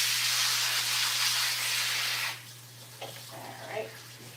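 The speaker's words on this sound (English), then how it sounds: "Let's run it under some water." Tap water runs in a steady hiss over lettuce being washed in a home kitchen, then stops abruptly, leaving faint clatter and small handling noises.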